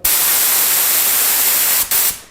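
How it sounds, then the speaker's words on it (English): A budget spray gun blasts thinner through its nozzle in a loud, steady hiss of air and atomised solvent, cutting out briefly near the end before resuming and stopping. "then spray all the thinner through the spray gun"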